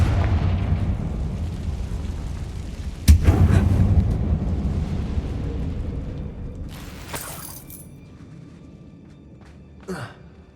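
A Confringo explosive spell blast in Hogwarts Legacy hits as a sudden loud boom over a low rumbling game backdrop. The rumble fades, and a few brief swooshes and clicks follow.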